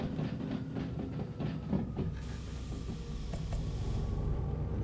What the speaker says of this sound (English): The noise that brake makes still freaks me out.